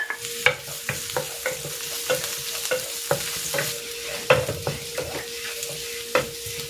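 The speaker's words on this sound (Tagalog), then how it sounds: "Magigisa na ako ng bawang." Garlic sautéing in oil in a pan for chicken estofado, a close, steady sizzle broken by regular sharp clacks of a spatula scraping and stirring, with no one talking.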